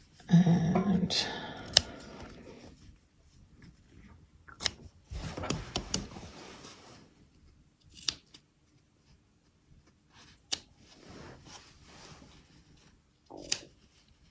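Scissors clip the corners of a quilt-as-you-go denim placemat made from denim scraps, giving a handful of sharp, separate snips spread over the clip, with fabric rustling and quiet talk in between.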